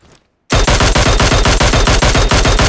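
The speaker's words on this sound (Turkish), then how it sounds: "Oradan ateş ediyorsunuz." A fast, loud burst of automatic gunfire in PUBG Mobile hammers out evenly spaced shots right after a brief quiet moment, continuing without a break at close range.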